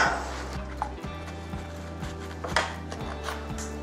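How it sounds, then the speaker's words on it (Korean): An apple is sliced into thin pieces with a knife, producing a series of soft, regular blade taps and crunches against a board at a close, quiet level, with no talking. "다음 거부터 5mm 이내로 썰어줍니다"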